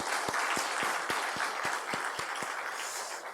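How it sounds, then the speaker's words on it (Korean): A church congregation applauds youth worship leaders after praise music, a moderately quiet, steady patter of many hands with a few distinct louder claps punctuating it. "우리 박수 한번 크게 하겠습니다."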